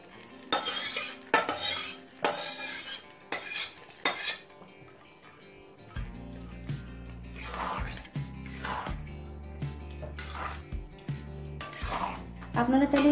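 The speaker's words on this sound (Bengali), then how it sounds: "এবার খিচুড়ির মধ্যে এই ফোড়নটা দিয়ে দেব।" Cumin and dried chilli tempering fried red is poured into Gobindobhog rice vegetarian khichuri, then a spoon clatters and scrapes against the pot in repeated close strokes, with a low hum and sizzle underneath.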